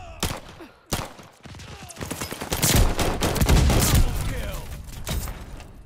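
Call of Duty Vanguard search-and-destroy match with loud, close bursts of gunfire and booming impacts, dense and overlapping, with a player's voice talking over the game sounds.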